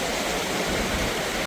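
A waterfall near a temple in Nepal roars as a steady, dense rush of falling water, loud and close, filling the whole moment without any voices.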